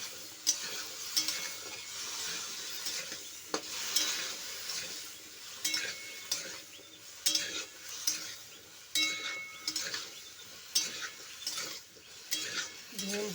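Turmeric gets stirred into an okra curry in a pan, a spoon repeatedly scraping and clinking against the metal over a soft, steady sizzle, close up with no talking.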